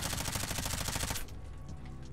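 Rapid SMG fire in Modern Warfare 3, a dense burst of loud, evenly spaced shots for about a second, then quieter game sounds with distant echoing action.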